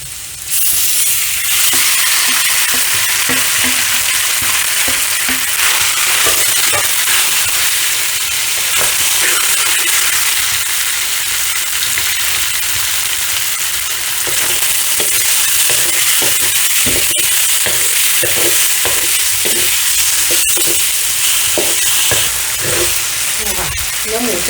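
Marinated pork frying in a pan, a loud continuous sizzle and hiss with rhythmic clacks of a utensil scraping and stirring, close by.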